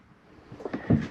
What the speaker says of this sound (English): slam locks work best when gently slammed